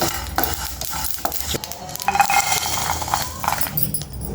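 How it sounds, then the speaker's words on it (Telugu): A utensil scrapes and stirs steadily as spices dry-roast in a hot pan for stuffed tomato curry, with light sizzling and occasional metallic clinks, close and continuous. "లాస్ట్లో ఉత్తి టమాటాకు ఇట్లా మసాలా వేయించుకోవాలండి"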